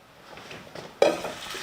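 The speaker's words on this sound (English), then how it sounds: "Our chicken thighs are coming along nicely here now. Alright, they're sizzling good." Chicken thighs sizzle in a pan with a soft crackle that jumps louder about halfway through, with light clinks of utensils.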